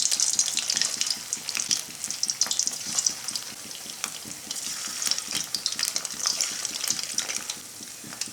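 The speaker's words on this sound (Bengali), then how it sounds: "পিঠাগুলো ভাজার জন্য আমি কড়াইতে পর্যাপ্ত তেল দিয়ে দিয়েছি" Rice-flour pulI pitha dumplings fry in ample hot oil in a wok, giving a continuous close crackling sizzle with dense popping bursts throughout and no voices.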